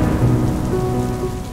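Steady rain pours with a low rumble of thunder in a Roblox game, a loud, continuous wash of sound over the brief moment with no voices.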